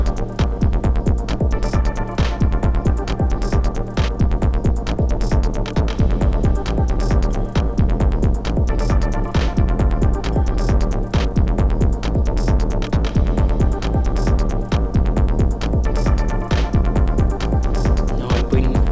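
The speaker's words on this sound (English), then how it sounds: "Now bring in the bass drum again." A loud, steady four-on-the-floor techno kick drum from an Elektron Digitakt drum machine, played live, thumps in a driving loop with layered synth textures and no voices.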